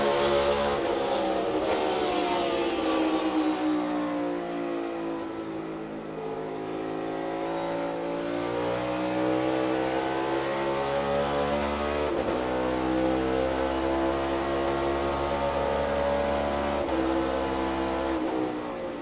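In-car audio from a race car on a road course, the engine screaming loud and close as it climbs through the revs, with sharp breaks at each upshift and blipping drops on downshifts over about twenty seconds.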